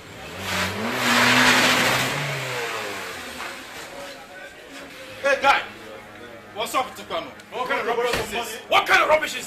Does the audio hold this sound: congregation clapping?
no